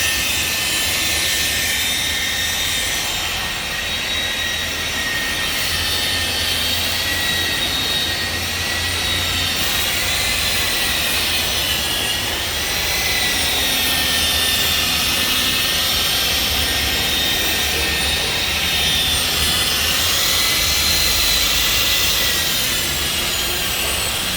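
A car polishing machine runs on a new Tata Harrier with a loud, steady, high-pitched whirring drone that holds nearly unchanged, only slightly swelling and easing, throughout.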